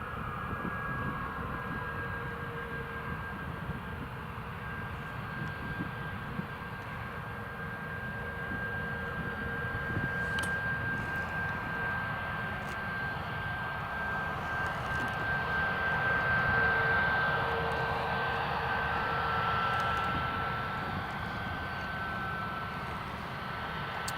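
A TUI airliner at Newcastle International Airport, its engines making a low, distant rumble with a thin whining tone that swells gently toward the middle and then eases, with no one speaking.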